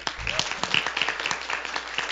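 A crowd claps and applauds for a contestant at a church Christmas celebration, dense continuous hand clapping at middle distance with a faint voice briefly underneath.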